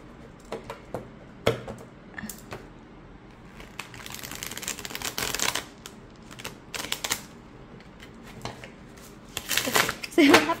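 Large cardstock tarot cards riffle and snap in quick bursts of papery clatter, with a longer flurry in the middle and scattered taps around it, close by.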